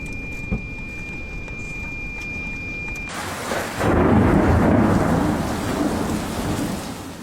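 A thunderstorm in Rosa, Poland, with rain hissing steadily throughout and a deep roll of thunder swelling loud about halfway through, then rumbling on under the downpour.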